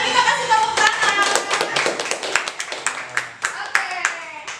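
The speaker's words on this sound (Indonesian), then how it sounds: "Boleh kita kasih tepuk tangan." An audience claps for a competition winner at an indoor trainer certification event, a dense burst of applause that thins into scattered individual claps, with a voice speaking briefly over it.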